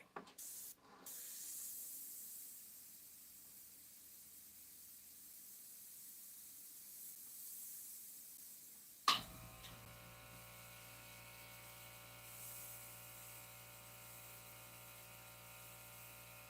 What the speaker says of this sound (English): That's the Surrey Hill silent air compressor.